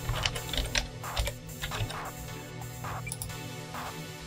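A password typed on a computer keyboard while logging into a MikroTik router: quick, uneven bursts of close, crisp key clicks with short pauses between them.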